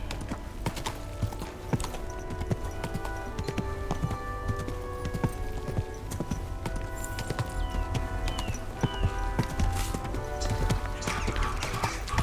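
Horse hooves clip-clopping steadily in Kingdom Come: Deliverance II, a continuous rhythmic trot on hard ground with faint ambient game sounds and no talk.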